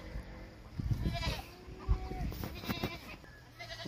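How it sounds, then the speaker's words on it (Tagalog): A goat bleats several times outdoors near a watermelon patch, close and fairly loud, with short wavering calls spread over a few seconds. "Kambing oh."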